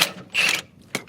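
Tightening a rear sway bar bushing bolt on a 2004 Mitsubishi Endeavor: short metallic ratcheting bursts, one longer rasp followed by a brief sharp click, close up and with no voices.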